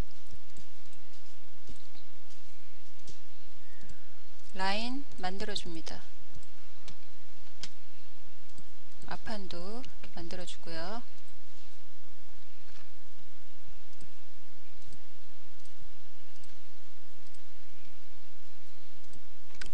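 A few quick clusters of light mouse clicks, with a person speaking steadily throughout.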